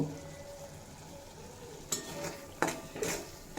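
Potato and papaya sautéing in a pan with turmeric and Kashmiri chili powder, a faint steady sizzle broken by a few sharp scrapes and clinks of a spoon against the pan.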